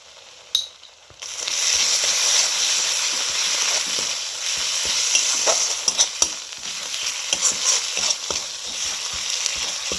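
Ginger, garlic and green chili paste sizzling in a hot frying pan for a prawn malai curry, a steady close crackling fry with repeated scraping stirs and clacks of a spatula.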